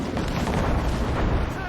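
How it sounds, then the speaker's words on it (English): Cannon volley fired at a ship in Assassin's Creed Rogue: a dense, sustained wall of booming low-end blasts and rumble that runs unbroken throughout, loud and close. "They are firing a volley!"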